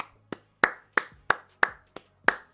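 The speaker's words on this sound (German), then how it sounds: "Von mir gibt's einen Applaus." A single person claps slowly, seven crisp, evenly spaced hand claps ringing out alone at an awards closing ceremony for an online Olympics event, fairly close and moderately quiet.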